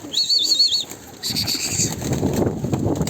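A flock of pigeons flaps and flutters close by, wingbeats rustling in bursts with a bright high call early on and soft cooing, no talking.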